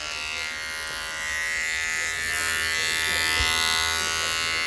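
A close Philips Multi Groomer electric beard trimmer buzzes steadily at a constant pitch, running alone without any talking.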